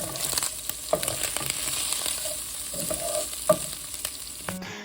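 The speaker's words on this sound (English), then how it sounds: "get ready for some sizzle action" Sausage browns in a hot pan with a steady, crackling sizzle, punctuated by occasional sharp spatters and the scrape of stirring, continuous and close throughout.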